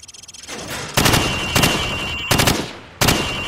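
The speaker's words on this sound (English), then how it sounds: "Now, shoot at the targets while firing from the hip." Rifle fired from the hip at range targets in the Call of Duty 4: Modern Warfare video game, four loud separate bursts of automatic gunfire, each cut short, with no talk.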